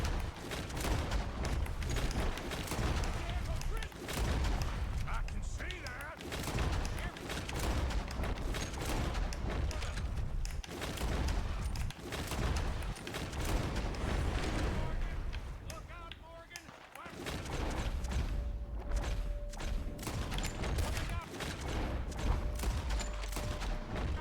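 Rapid, continuous gunshots from the video game Red Dead Redemption II, a close, loud fusillade of overlapping shots lasting throughout, with a brief lull partway through.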